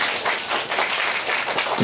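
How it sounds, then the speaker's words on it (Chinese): Audience applause fills a hall as a professor is welcomed to a children's math-games lecture, a steady, dense clapping that holds loud and even throughout. "大家以热烈掌声欢迎许教授。"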